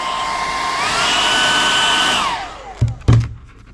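A heat gun blows steadily and loudly as it warms a vinyl decal on an ARRMA Fireteam RC car body, its tone shifting partway through before it cuts off, followed by two short handling knocks.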